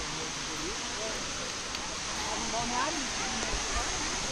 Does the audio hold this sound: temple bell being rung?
no